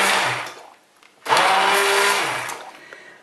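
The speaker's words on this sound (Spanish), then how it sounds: "Ahora la vamos a pasar por la batidora y hacemos la crema de calabaza." Close, loud blender pureeing cooked potato and pumpkin into soup: a short burst of whirring, a brief pause, then a steady roaring run of about two seconds that eases off at the end.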